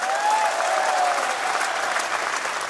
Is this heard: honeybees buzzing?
no